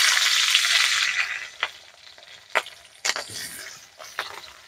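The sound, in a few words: green chillies added to frying pan, sizzling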